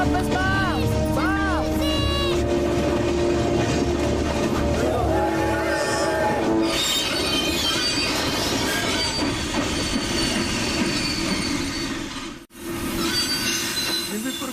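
Cartoon train screeching to a halt, its wheels squealing loudly against the rails and the cars rattling for several seconds before a brief drop, with the music and effects of an animated children's story.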